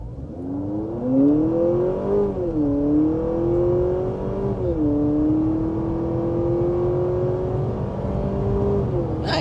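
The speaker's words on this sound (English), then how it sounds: "pretty decent acceleration, getting up to speed there" A 2023 Honda Accord hybrid accelerates past 60 mph, its engine drone rising and settling in smooth pitch sweeps heard from inside the cabin, loud and continuous with road noise beneath.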